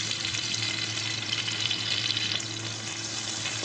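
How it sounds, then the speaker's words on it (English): Chopped garlic and ginger sizzle in hot ghee with cumin seeds for a street-style vegetable chowmein, a steady, dense crackling fry that stays loud and even throughout, with no voices. "Now we have to add the chopped garlic in it and fry the ginger."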